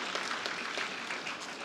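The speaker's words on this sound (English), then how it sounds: "give a big applause to these doctors" Audience applause for doctors at an awards ceremony, a steady, fairly faint wash of many hands clapping throughout.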